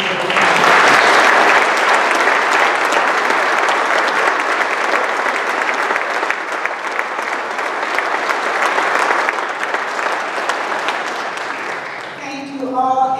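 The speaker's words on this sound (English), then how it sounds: "Please give them a huge round of applause." Sustained, loud applause from a large town hall audience fills the space, steady clapping that carries on for a long stretch before a voice begins at the end.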